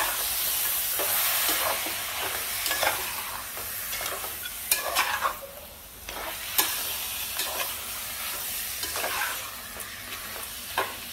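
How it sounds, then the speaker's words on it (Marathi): Mundi pieces being sautéed in hot oil for an Aagri-style dal, a loud, close sizzle with repeated scraping and stirring strokes at irregular intervals and no voices. "मुंडीचे पीसेस केलेले आहेत ते घालायचे आहेत आणि तेलामध्ये मस्त परतून घ्यायचे आहेत"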